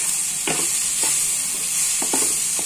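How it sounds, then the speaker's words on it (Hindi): Mixed vegetables with garam masala fry in a pan over low heat, a constant close sizzle broken by a few soft spoon scrapes and taps as they are stirred. "और दो से तीन बार इसे फ्राई करूंगी"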